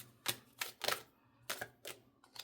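A deck of tarot cards is shuffled by hand. Six short, soft, close bursts of riffling card noise come in a loose rhythm, with no talking.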